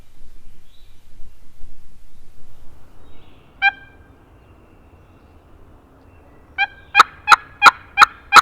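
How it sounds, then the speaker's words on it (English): A wild turkey gobbles in mountain terrain, first one distant call, then a quick burst of several sharp gobbles in a row, standing out clearly against otherwise quiet surroundings. "That bird across the hall is still gobbling."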